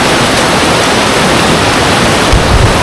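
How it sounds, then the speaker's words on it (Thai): Steady, loud rushing water from a tiered forest waterfall pours continuously, a dense hiss of falling water with a brief deeper splash near the end. "ก็จะเป็นน้ำตก ไหลลงมายาวๆนะครับเป็นชั้นๆลงมาเรื่อยๆเลย"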